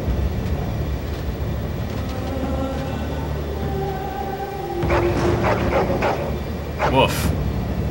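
A dog in the Dragon Age: Origins video game gives a short run of loud barks over steady in-game background noise, with people talking.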